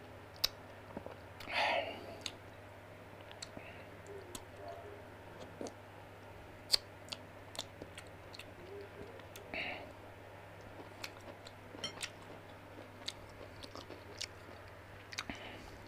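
Someone eats asam pedas and tastes the broth, with faint close-up mouth clicks, sips and soft chewing spread across a quiet room with a steady low hum.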